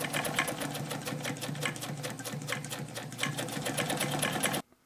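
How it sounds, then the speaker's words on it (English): A 1960 Lady Kenmore 89 (516.891) German-built sewing machine running a full-width, longest-length zigzag stitch, a fast even mechanical clatter of needle strokes, close and continuous, stopping abruptly at the end. "So now that we're sewing zigzags"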